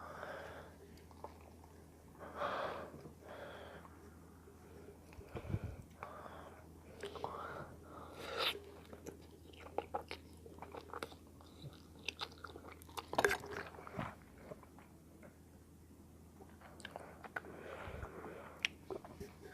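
Close-miked chewing of buldak carbonara, soft wet bites and squishy mastication with occasional crunchy clicks, quiet and intimate, with faint whispered breathing between mouthfuls.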